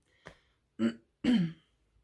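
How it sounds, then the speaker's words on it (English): A person clears their throat and coughs in three short, separate bursts, close up, with quiet pauses between them. "I'm constantly clearing my throat lately and coughing"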